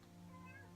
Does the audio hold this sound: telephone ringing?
no